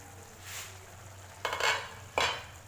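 A metal lid is lifted from a simmering pot of potato and pea curry, two sharp clattering knocks with ringing tails over a quiet, low background hum.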